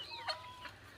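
Free-range chickens on a poultry farm of about 2000 birds, soft, faint clucks and a brief high call over quiet background, a couple of short bursts only.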